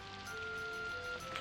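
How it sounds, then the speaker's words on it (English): Steady rain hisses in the video game Daggerfall, a soft, even wash of falling drops under faint sustained tones. "it's just going to rain for days and we're stuck here"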